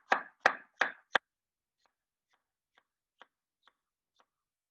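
Kitchen knife slices through a cucumber on a bias, four crisp, evenly spaced chops close by, followed by a run of faint, light taps in near silence.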